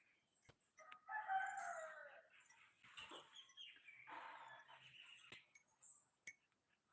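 A chicken clucks and calls in a few uneven bursts, fairly close, with rustling and small knocks around it and no talking.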